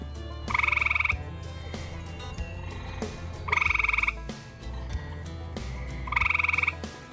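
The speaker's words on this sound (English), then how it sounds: "We all know that the music made by frogs and toads is for courtship." Frogs and toads call in three loud, rhythmic croaking bursts about three seconds apart, each a rapid pulsed trill standing clear above a low background hum.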